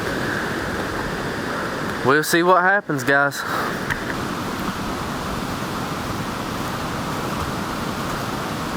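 A flooding creek rushes in a steady, broadband roar near a bridge, swollen and high; someone speaks briefly over the churning water partway through.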